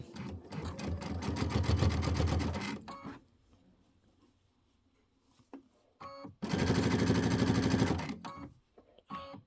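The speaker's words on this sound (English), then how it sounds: "this is where I'm going to start sewing first" Sewing machine stitching a Kimberbell Let It Snow pillow top, two loud close rattling runs of stitching separated by a quiet pause with faint handling noises.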